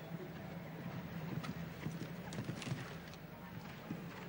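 Horse hooves thud and clip-clop faintly around a show jumping Grand Prix arena in Monaco, a low, steady rhythm under distant crowd murmur and an announcer's voice.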